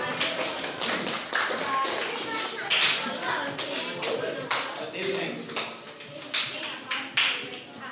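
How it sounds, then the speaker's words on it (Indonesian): A class of students in an Indonesian school lesson claps for discussion group three, a fairly quiet, uneven patter of hand claps with separate sharp slaps and some children's chatter mixed in. "Tepuk tangan untuk kelompok 3 ya."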